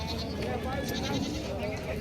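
A goat bleats at a busy rural goat market, a wavering cry rising over the crowd, with people talking throughout.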